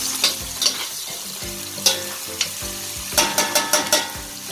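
Celery sizzles steadily in a hot pan, with occasional clinks and scrapes of a utensil stirring it.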